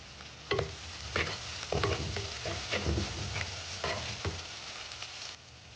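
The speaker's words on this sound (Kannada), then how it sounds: "ಜಸ್ಟ್ 1 ನಿಮಿಷ ಮಾತ್ರ ಹುರಿತೀನಿ ಅಷ್ಟೇ." Two onions frying in a pan with a steady soft sizzle, broken by repeated scraping strokes of a spoon as they are stirred, close and moderately loud, with no talking.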